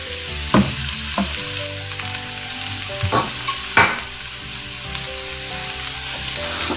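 Capsicum and carrots frying in a pan for a sweet and sour pasta, a steady close sizzle with a few sharp stirring scrapes and clacks scattered through it, no voices.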